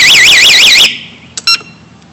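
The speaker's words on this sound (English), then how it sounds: "And if somebody bothers it, the alarm goes off." An anti-theft alarm on an EW-36 GT3 electric mobility scooter blares a loud, close warbling siren that cuts off abruptly, followed by two short electronic chirps in the quiet that follows.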